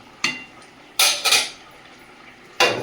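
A metal lid clanks onto a cooking pot of pangas fish curry in a home kitchen, with three sharp metallic clinks and a brief rattle at uneven intervals, close and fairly loud with no talking.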